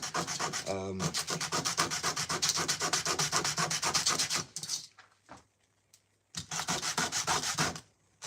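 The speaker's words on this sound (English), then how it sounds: "So actually sanding it down is just a pain in the ass" Rapid rhythmic sanding strokes on a wooden skateboard, loud and close, a steady back-and-forth scrubbing that pauses briefly before resuming.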